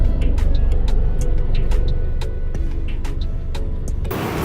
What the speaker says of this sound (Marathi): फुल ट्रॅफिक.